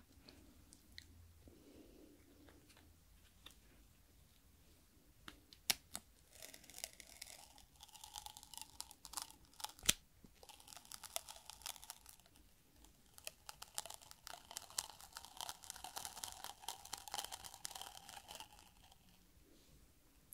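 Faint, quiet crackling and ripping bursts of adhesive tape being pulled and torn, coming in short irregular clusters with pauses between.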